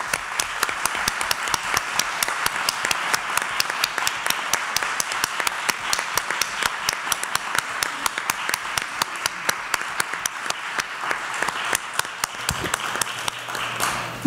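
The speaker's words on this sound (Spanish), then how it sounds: "les pido un caluroso aplauso para nuestras expertas invitadas" Audience at a Mexican government women's rights protection forum gives invited women experts a long, steady round of applause, dense even clapping lasting throughout with no talk over it.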